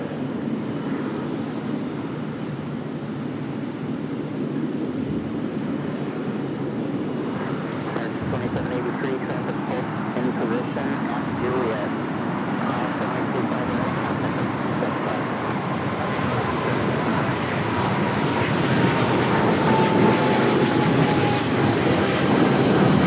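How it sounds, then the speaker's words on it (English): China Eastern Airlines Boeing 777-300ER rolling for takeoff on runway 25 right at Los Angeles International, a broad jet roar that swells and grows louder toward the end, with a person talking over it. "China Eastern Airlines 777-300ER now rolling on 25 right."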